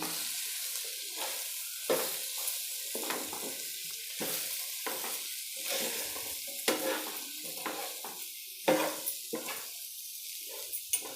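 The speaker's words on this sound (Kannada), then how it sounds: "ಇದೆಲ್ಲ ಹಾಕಿದ್ಮೇಲೆ ಒಂದು ಸಾರಿ ಚೆನ್ನಾಗಿ ಮಿಕ್ಸ್ ಮಾಡ್ತೀನಿ" Potato fry seasoned with turmeric being stirred in a pan, a steady run of scraping spoon strokes over a soft constant sizzle, repeated every second or so, close and moderately loud with no voices.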